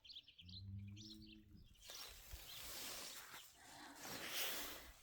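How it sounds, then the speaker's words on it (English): A bird with an odd, unusual voice calls outdoors in north-west Texas near Lubbock, a short run of harmonic call notes heard first, then broadband outdoor noise fills the rest. "A bird with a weird voice."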